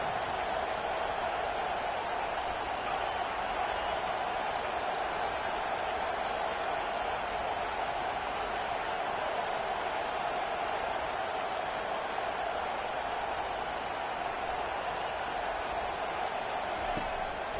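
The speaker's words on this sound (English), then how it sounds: "Here comes this home crowd as the defense tries to get off the field on 3rd down" A home crowd roars at a college football game as the defense tries to get off the field on third down, a broad sustained stadium din that holds steady and loud the whole time with no clear talk above it.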